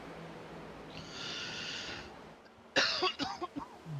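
A single throaty cough from a man during a casual iRacing stream of a Darlington race, sounding loud and close, followed by a few short rough throat sounds, with faint background noise before it.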